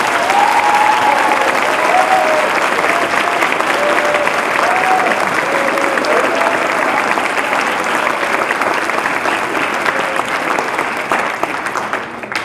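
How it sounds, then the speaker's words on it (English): A large school audience applauds the National Honor Society senior leadership team, a dense, steady wash of clapping that holds loud for about twelve seconds. A faint voice or murmur drifts along under it. "For seniors, let's give them a round of applause."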